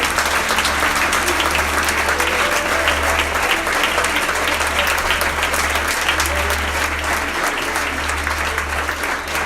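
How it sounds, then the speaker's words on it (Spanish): A church congregation gives loud, sustained applause over a low, steady hum, the clapping dense and continuous for the full stretch. "Dale otro fuerte aplauso al Señor."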